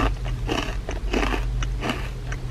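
Close, loud crunching bites into crisp kumara vegetable chips from a grocery store, several sharp crackling bursts with chewing between them and no talk.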